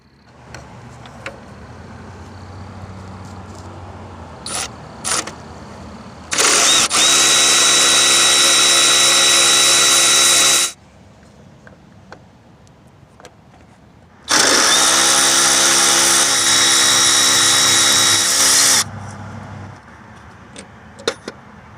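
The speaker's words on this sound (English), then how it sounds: "I'm using a 13mm deep socket with the 3-inch extension to remove the three fasteners that mount the power steering pump to the bracket" A power driver spins a 13mm deep socket on a 3-inch extension, loosening the power steering pump fasteners on a 1993-98 Jeep Grand Cherokee: two loud, steady whirring runs of several seconds each, with metallic clinks and handling noises between.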